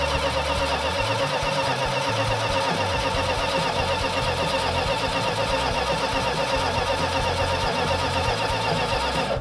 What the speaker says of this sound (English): we've got a tappet that's making noise, or some kind of metallic noise that sounds like a tappet